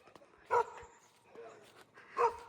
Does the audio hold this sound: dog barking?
yes